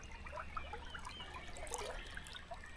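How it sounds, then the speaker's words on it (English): Water of the Maritza River in Bulgaria trickles and burbles close by, soft and continuous, with small bright splashes and drips over a low steady rush and no voices. "we've come to the Maritza River to have a little paddle"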